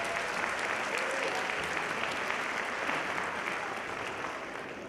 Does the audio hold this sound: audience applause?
yes